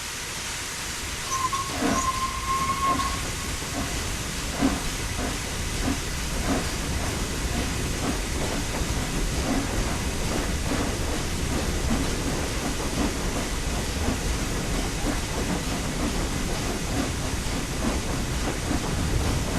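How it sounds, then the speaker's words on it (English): A steam locomotive on the East Coast Main Line in Train Sim World 4 starts and runs with a steady, broad hiss of steam and faint rhythmic chuffs over a constant rumble. "Remember that power delivery is delayed in a steam locomotive, and applying too much power too early can cause wheel slip."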